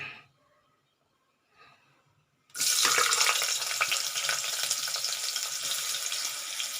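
After a near-silent pause, a sliced medium onion drops into hot oil in a pan and erupts into a sudden loud sizzle that then holds as a steady, crackling hiss.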